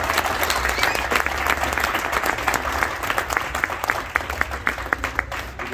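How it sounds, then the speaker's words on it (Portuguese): Wedding guests at a Brazilian ceremony applaud after the ring exchange, a steady roomful of clapping with a few sharper, closer claps standing out toward the end. "Vamos aplaudir?"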